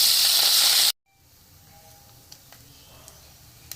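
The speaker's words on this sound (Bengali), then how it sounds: "এবার আমি মাছগুলো দিয়ে দেব" Small mourala fish drop into hot oil in a kadai with a loud, bright hiss of sizzling that cuts off abruptly after under a second, leaving faint clinks and quiet background.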